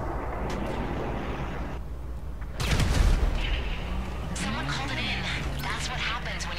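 A loud booming bomb explosion in GTA V Online hits midway through, rumbling over a steady background of game noise, with a voice speaking afterward.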